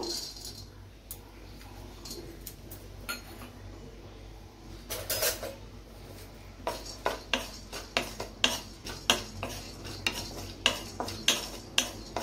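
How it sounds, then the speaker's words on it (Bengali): Char magaj seeds dry roast in a pan, heard as a faint, close series of rhythmic scraping and tapping stirs that grow sharper and more regular toward the end. "চার মগজটা প্রথমে আমি ড্রাই রোস্ট করে নেব।"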